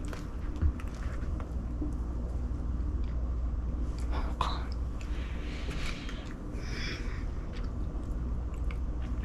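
Close, moist chewing of a lemon bundt cake made from cake mix, steady mouth sounds with a few bites and soft squishes, no talking.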